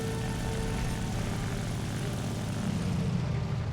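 Ki-43-III Otsu propeller fighter in War Thunder, its engine droning steadily and loudly throughout with a broad continuous roar that swells slightly near the end, alone without talk.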